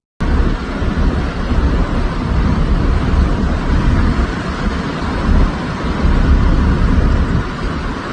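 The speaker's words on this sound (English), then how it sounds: "A powerful winter storm with strong winds has hit southern England" Gale-force winter storm winds and heavy rain battering Cornwall in southern England, a loud, unbroken roar of gusting wind and downpour buffeting the microphone throughout.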